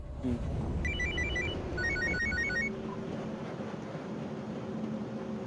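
A telephone rings in two short trilling bursts, electronic bell-like chirps repeated rapidly, fairly clear over a low background rumble, then fading to quiet room tone.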